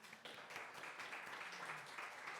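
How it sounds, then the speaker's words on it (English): A faint crowd at a book launch event applauds, a soft continuous patter of many hands clapping heard from a distance. "Let's give him a round of applause."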